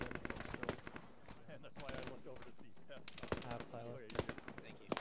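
Dense bursts of automatic rifle fire crackle through an Arma military-sim firefight with the ShackTac group, quick rattling volleys from near and far, while players talk over them.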